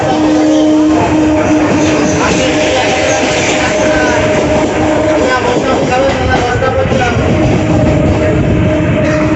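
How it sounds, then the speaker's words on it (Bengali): A local train pulls away from Tala station near Kolkata, its loud, steady rumble, wheel clatter and rising motor hum filling the whole recording as it gathers speed, with no talk over it. "তো টালা স্টেশন আমাদের ছেড়ে চলে যাচ্ছে আমাদের ট্রেন"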